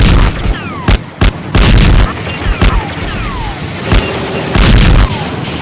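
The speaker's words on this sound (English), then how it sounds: "all around him there were bullets flying, bombs, shells exploding" Animated war battle with sharp bursts of gunfire and booming shell and bomb explosions, loud and close, coming in irregular clusters with whistling shells between them.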